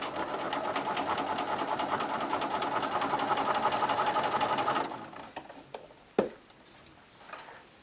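A sewing machine runs in a fast, steady rattling burst while stitching patchwork binding, then stops abruptly, leaving scattered soft clicks and a single sharp knock as the fabric is handled.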